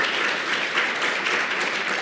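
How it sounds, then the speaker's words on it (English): An audience at an HIV healthcare provider symposium keeps up a dense, even, steady applause, heard as a moderate hiss of many hands clapping with no voices over it. "give another round of applause to Chris Lyon"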